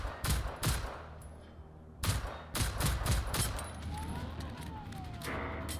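Enemy gunfire in the video game Generation Zero: repeated loud bursts of shots and blasts come in clusters over a steady rumbling background, with a faint rising-and-falling tone near the end.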